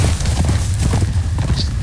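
A horse's hooves clatter away in a Game of Thrones video game, a rapid, loud run of clip-clop beats with a muffled rumble underneath.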